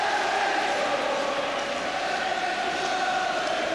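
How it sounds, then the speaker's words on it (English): A capacity crowd of Aberdeen supporters chants at Pittodrie stadium during a football final, a dense, sustained roar of massed voices heard from within the stands, steady and loud throughout. "The chanting around us among the Aberdeen supporters."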